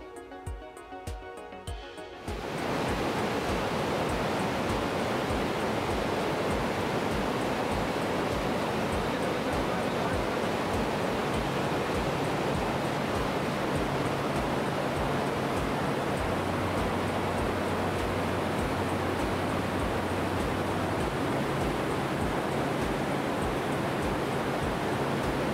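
Water flowing down from a mountain beside a bamboo resort in Darjeeling, a steady, loud broadband rush that starts after a brief quieter moment and continues unbroken throughout.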